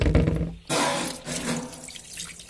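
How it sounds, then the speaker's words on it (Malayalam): A tap suddenly opens and water gushes into a sink, a steady close splashing rush that eases slightly toward the end. "നമ്മൾ ടാപ്പ് ഇങ്ങനെ തുറക്കണം"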